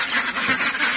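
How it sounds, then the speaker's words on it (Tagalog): Ducks quacking on a rural farm, a steady dense chorus of many birds close by, continuous and fairly loud with no one talking. "Sa di pa tamo mata, guys, madungog na nato ang kasaba sa itik."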